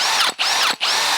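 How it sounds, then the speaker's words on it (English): A power drill bores holes into a Suzuki Jimny, loud and close, in two whining bursts separated by short pauses. "we've got to drill some holes into my car."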